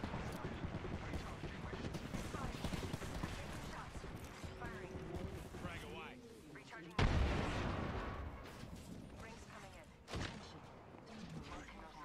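A grenade goes off in an online shooter, a sudden broadband blast around the middle of the clip and a smaller thump a few seconds later, both set against continuous dense game noise and effects.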